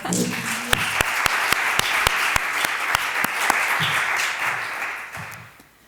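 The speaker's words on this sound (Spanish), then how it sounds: "Otro aplauso, por favor." Lecture audience at a literary talk applauding: a continuous wash of many hands with a few louder, regular claps standing out on top, steady throughout, then fading at the end.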